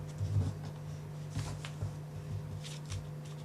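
A dollar bill being folded into an origami tank, with soft papery creasing and rustling in several short bursts, heard close and quiet over a steady low hum.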